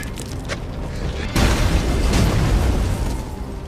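A car explodes in a film scene with a sudden deep boom that swells into a sustained roaring rumble of fire and debris, loud and close, following a moment of lighter background noise.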